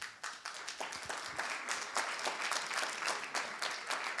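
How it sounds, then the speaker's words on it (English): Audience members at a charity pitch event clap in a lively, sustained round, individual claps distinct and fairly close, rising briefly and then holding steady throughout. "everybody here should be standing and applauding you"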